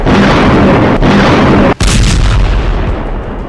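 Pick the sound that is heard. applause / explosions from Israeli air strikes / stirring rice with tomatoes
explosions from Israeli air strikes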